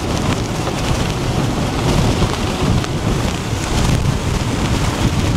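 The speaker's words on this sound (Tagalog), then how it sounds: "Ay, lakas ang hangin!" Strong wind buffets the microphone on an old mountain trail in Taiwan, a loud, continuous roaring rumble with no pauses and no voices.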